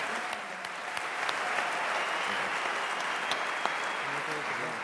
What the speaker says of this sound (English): A round of applause for Alisson Becker.